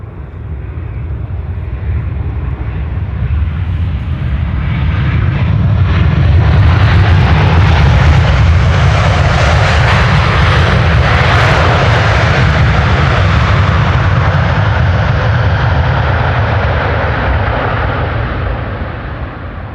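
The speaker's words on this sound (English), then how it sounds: "As expected, the Cathay 747 will be landing here on the Polderbaan." Cathay Pacific Boeing 747 on landing approach to the Polderbaan runway at Amsterdam Schiphol, a loud, broad jet roar that swells as the aircraft passes and then slowly fades.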